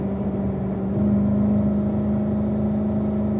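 A car driving on a racetrack in fourth gear at light throttle: a steady, close mid-pitched engine drone with a low hum, holding an even note and swelling slightly partway through, with no voices.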